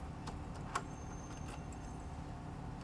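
Two physical keys for a DESLOC D110 Plus smart door lock jangle briefly in the hand, a few light metallic clinks and one sharper chink, close up over a quiet room hum.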